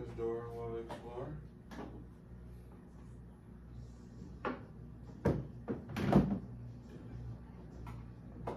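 A cabinet door fitted with a child safety lock is closed and latched, with a few dull knocks and sharp clicks over room noise while a person talks throughout.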